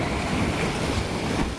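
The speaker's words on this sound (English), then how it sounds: "With all the splashing seawater." Seawater waves splash and crash along the shoreline at Fort Wadsworth beneath the Verrazano Bridge, a continuous rushing wash mixed with wind buffeting the microphone, with no voices.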